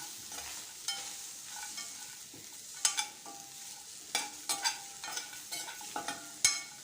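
Sesame seeds, cumin and grated coconut dry-roast in a pan, with a quiet, steady scrape and rustle of stirring broken by sharp little clicks from the spoon, close and faint, with no talking.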